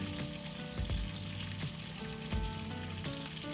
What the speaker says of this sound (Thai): วันนี้ทอดปลาเค็มหลังเขียวนะคะ